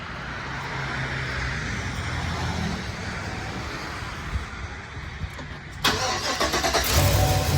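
A 2015 Chevrolet Silverado 2500 pickup cranks and fires up after a battery change, the engine catching abruptly near the end and running loudly after quiet outdoor background noise.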